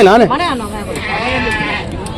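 Goats and sheep bleat at the Rajarampalli Angadi animal market, with a few wavering, fairly close cries early on over steady crowd chatter and voices.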